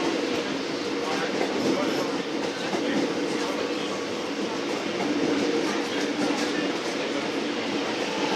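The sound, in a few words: Melbourne Metro train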